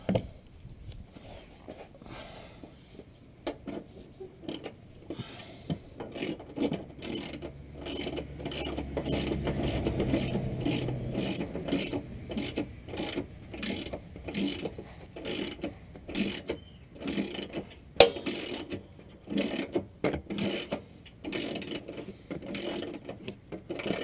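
A ratchet snugs bolts on the alternator of a 1999 Nissan Altima, giving long stretches of rapid, close mechanical clicking with a low rumble underneath.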